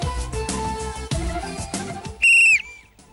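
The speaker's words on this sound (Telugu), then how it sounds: "విజిల్ గట్టిగా వేయండి, చేయి అడ్డం పెట్టుకోకండి విజిల్ కి." A contestant on a Telugu television game show blows a whistle, giving one loud, shrill blast lasting about a third of a second after busy studio background sounds.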